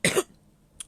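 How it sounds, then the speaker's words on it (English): A single short, harsh cough, close and fairly loud, followed a moment later by a brief faint throat noise. "always when I've been speaking for too long, I start to cough."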